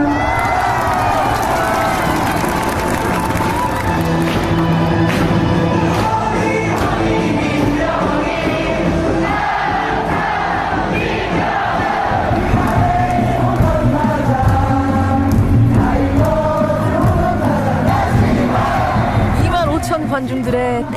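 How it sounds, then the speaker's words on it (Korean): A Korean baseball stadium crowd sings cheering chants in unison, loud and dense, layered with a mass of voices and rhythmic shouting, with speech mixed in. "관중들의 떼창 소리 들리시나요?"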